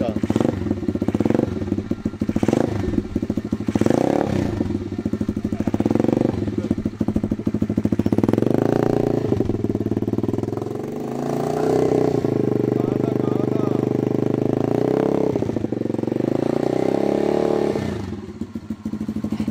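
A motorcycle engine running close by, a steady rumbling drone that rises and falls in pitch with revs, with clattering bumps and some talking over it.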